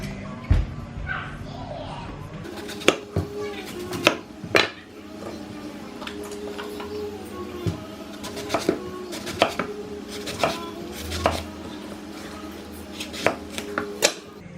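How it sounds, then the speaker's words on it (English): A knife slices dark purple vegetables on a board in a home kitchen, giving a steady run of crisp, close chops and thuds with irregular spacing. A person talks throughout, and faint background voices sound now and then. "So I'm just gonna slice them up to be as burgery as they can"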